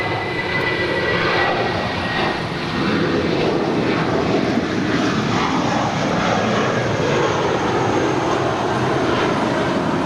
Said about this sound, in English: flight 1986, departing to Las Vegas. It's a 22-year-old Airbus A320.